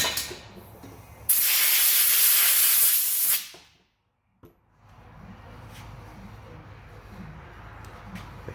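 A broad hissing spray blasts loudly for about two seconds while rinsing out a braided PTFE hose with AN fittings, then cuts off abruptly into quiet, followed by faint shop background.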